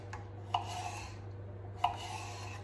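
A knife cuts vegetables in half on a board, two separate short crisp cutting strokes about a second apart over a low steady hum, quiet and close.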